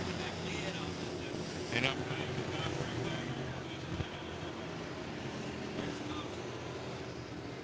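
Street stock race cars roaring around a short track during a qualifier feature, a distant, steady engine drone with wind buffeting, heard under an announcer's continuous commentary.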